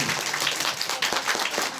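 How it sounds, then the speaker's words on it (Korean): A crowd at a live concert applauds, with steady, dense clapping that swells slightly in the middle. Faint voices can be heard in the background. "큰 박수 부탁드릴게요."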